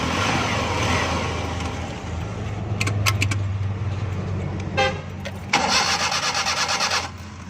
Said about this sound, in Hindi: फिट करने के बाद इसको अब हम स्टार्ट करेंगे गाड़ी को